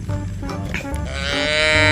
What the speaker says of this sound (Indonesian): Yang ini ada sapi.